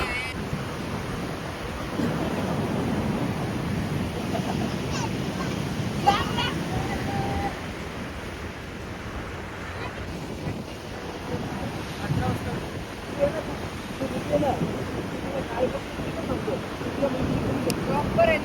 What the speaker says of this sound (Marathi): फुल हवा, एकदम समुद्र एकदम खवललेला होता.